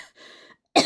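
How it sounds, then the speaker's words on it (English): A single short, sharp cough comes at the end, after a brief soft vocal sound and a moment of silence. It is close and fairly loud. "I don't know why elbowing my desk is making me cough."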